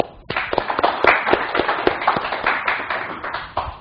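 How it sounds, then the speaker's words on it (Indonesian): Applause for Pak Paulus at a business leadership talk: a crowd clapping with distinct sharp hand claps standing out, starting abruptly and tapering slightly toward the end. "kita beri tepuk tangan dulu Pak Paulus"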